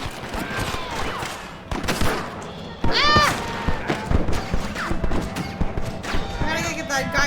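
Gunfire from a Red Dead Redemption shootout with rustler guards, sharp repeated shots and crashes mixed with game voices and a player talking over the action.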